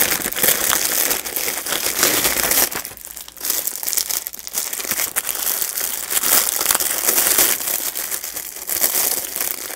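Thin open-top paper envelopes handled up close, giving a near-continuous crinkling and rustling for almost ten seconds, with a short quieter dip partway through and no talk.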